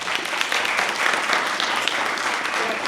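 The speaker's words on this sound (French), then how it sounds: "Tu vas applaudir." Audience applause at a roundtable discussion, a brief, steady burst of clapping from a seated crowd lasting a few seconds without a break.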